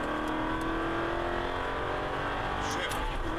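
An Aston Martin V8 Vantage pulls hard at full throttle on a track, its engine note droning steadily upward toward 6,000 RPM, loud and close from inside the car, with an instructor's voice over it.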